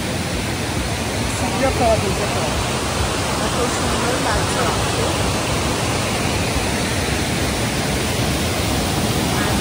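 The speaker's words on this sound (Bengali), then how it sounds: "তার পাশেই যে ঝর্ণাটা, সেটা এরকম অসাধারণ লাগছে। যেহেতু বৃষ্টি হয়েছে তাই জন্য জলের স্রোত প্রচুর বেশি" A rain-swollen waterfall beside a living root bridge in Meghalaya roars as a loud, continuous broadband rush, with a person briefly speaking over it.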